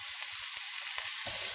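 Onions going into a hot pan for chakchouka give off a steady, fairly quiet sizzle with brief crackles and a few soft low knocks. No one speaks.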